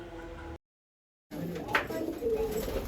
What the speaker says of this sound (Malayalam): ഇനി ജിജുവേട്ടൻ്റെ കുറച്ച് പ്രാവുകളെ കണ്ടാലോ?